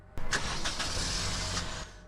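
A car engine cranks and catches, then settles into a steady idle for about two seconds before cutting off sharply, heard close and alone.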